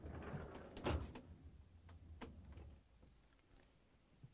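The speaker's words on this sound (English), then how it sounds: "Next, I'm going to open the freezer door." An LG/Kenmore French-door refrigerator's freezer door swings open, giving a soft seal release and a muffled thump near the start, followed by faint clicks and rustling in a quiet room.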